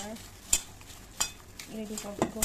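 Stirring sesame oil into a pork knuckle dish: a few soft scrapes and clinks of a utensil against a bowl, close and quiet, with faint sizzling beneath.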